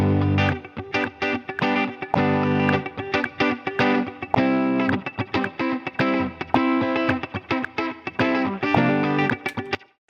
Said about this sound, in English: So that way you have the reverb audible, but it's just not washy all over the place